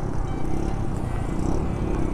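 A Bajaj NS 125 motorcycle fitted with an Austin Racing full exhaust system gives a steady, dense rumble throughout, fairly loud and close, with no talking over it.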